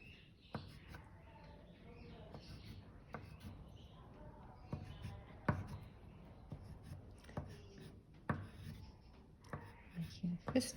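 Crayon scratching across paper while snowflakes are drawn: quiet, dry, scratchy strokes in short irregular bursts, close and soft, with faint voices now and then.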